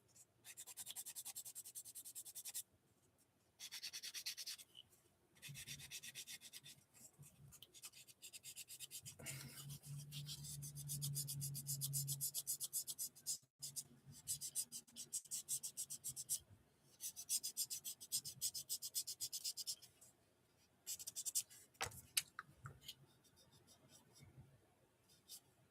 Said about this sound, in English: Just gonna sand this real quickly to see how this looks.